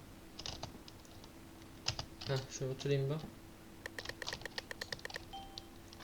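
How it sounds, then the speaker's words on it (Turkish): A computer keyboard sits very close to the microphone during a Murder Mystery 2 gaming session, sending out bursts of quick, crisp key taps, with someone talking briefly in between. "mikrofon çok fazla yakın klavyeye. Klavye sesi gelmiyordur."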